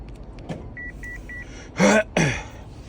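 Opel Zafira B being locked: three short electronic beeps, then two loud mechanical clunks of the central locking actuating in quick succession, close by in a quiet setting.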